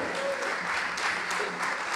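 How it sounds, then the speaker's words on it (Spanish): An audience claps in steady, continuous applause at a televised evening event, loud and close, with no clear voices above it. "Fuerte el aplauso para el barrendero"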